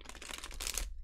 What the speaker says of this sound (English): Can get one good shuffle in.